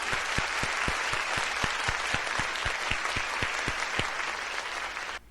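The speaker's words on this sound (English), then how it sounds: "Let us please offer a big round of applause of gratitude." An audience at a special religious workshop applauds in gratitude, steady clapping with a rhythmic beat of louder unison claps running through it, stopping abruptly near the end.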